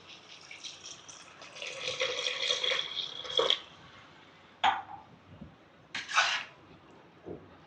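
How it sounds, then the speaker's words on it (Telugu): A glass of water poured into a pan of tomato and chana dal curry, a splashing pour of a few seconds followed by a couple of short separate splashes and trickles, close and fairly quiet. "ఒక గ్లాస్ వాటర్ వేస్తుందండి."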